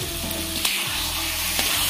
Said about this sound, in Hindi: अब डाल देंगे इसमें चिकन को डाल दे रहे हैं यहाँ पे